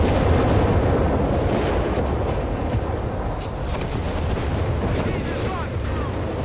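Artillery bombardment in Company of Heroes 3 rumbles as a steady wash of booming explosions and distant shell impacts, a continuous roaring barrage over the battlefield with occasional sharper bursts.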